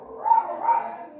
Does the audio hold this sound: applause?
no